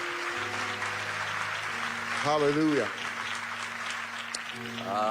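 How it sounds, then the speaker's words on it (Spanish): Church congregation clapping hands as an offering of praise, a steady wash of applause beneath loud voices calling out and a sung, drawn-out shout rising over the middle. "Would you give a hand clap offering unto the Lord?"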